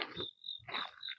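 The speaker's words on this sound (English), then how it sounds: "Frogs and insects." Frogs and insects calling at a wildlife refuge on a clear autumn morning, a faint chorus of short buzzing chirps and a thin high trill rising and falling.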